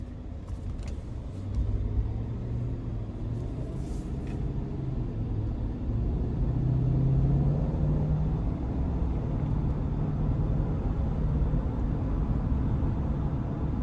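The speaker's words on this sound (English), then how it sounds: "here we go on our test drive of the 21 Tahoe High Country." A 2021 Chevrolet Tahoe High Country with the 6.2 V8 and 10-speed transmission cruising on a test drive, a steady low engine and road rumble from inside the cabin, continuous and moderately loud with no talk.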